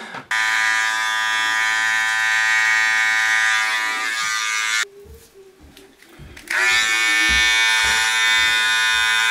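An electric razor trims a beard and hairline, its high, even buzz running loud and close, breaking off for a moment with lower rubbing and handling sounds before switching back on.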